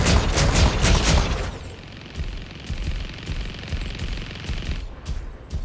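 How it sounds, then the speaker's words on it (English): Disc launchers fire in the Mech Arena video game, a rapid burst of loud automatic shots followed by quieter repeated thuds and impacts under a steady electronic hum. "He wants to play with disc launchers, we can play with disc launchers."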